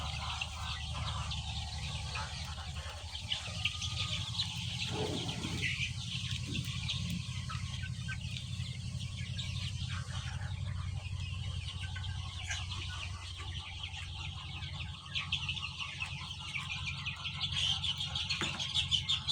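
Sonali and Fayoumi mixed-breed chicks in a shed make continuous high cheeping and peeping, a dense steady chorus over a low constant hum.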